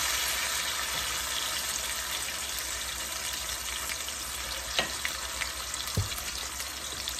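Ground greens paste mixed with onion paste, cumin and bay leaf frying in a pan, a continuous hissing sizzle with a couple of brief utensil knocks near the end.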